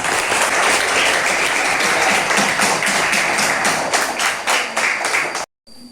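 Students in a classroom clap together in a loud, rhythmic burst of applause that runs for several seconds, thins out and stops abruptly, followed by a faint trailing sound.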